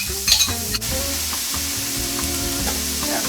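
Onions hit a hot pan and sizzle loudly and steadily, with a brief clatter at the start before the frying hiss settles into a continuous sound nearby, with no speech.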